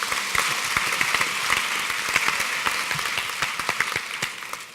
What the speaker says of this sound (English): give him the clap of encouragement